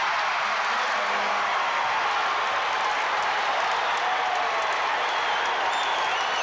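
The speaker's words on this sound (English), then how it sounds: "Crowd loves it." Basketball arena crowd at the 1984 NCAA women's national championship, USC versus Tennessee, cheering and applauding steadily throughout, a dense, loud wash of clapping and roaring voices with no pauses.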